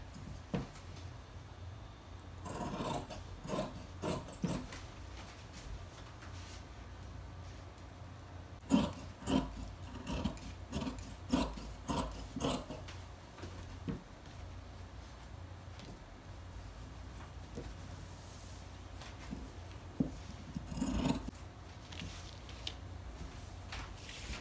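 Scissors snipping through fabric while cutting out the back of a shirt dress, a quiet run of close, irregular cuts and rustles with a few sharper clusters of snips, with no talking.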